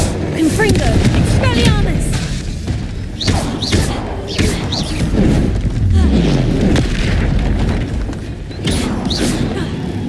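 A dense, loud fight in Hogwarts Legacy with the Expelliarmus disarming spell fired amid repeated booming thuds and impacts; voices are heard over the constant battle noise.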